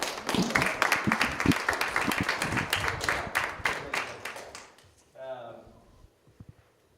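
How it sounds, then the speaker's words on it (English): Crowd applause with dense clapping and cheering for several seconds, fading out, followed by a brief voice and a few scattered claps. "Give them a round of applause"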